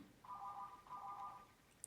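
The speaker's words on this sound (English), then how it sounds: "I'm sorry for the phone ringing there" A telephone rings indoors in a quiet room, two long buzzing rings with a short gap between them, faint and steady, with no voices.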